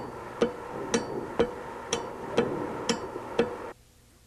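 Fuel shutoff solenoid on a VE diesel injection pump clicking sharply as power is switched on and off, seven crisp metallic clicks at an even pace of about two per second, close and alone, followed by silence.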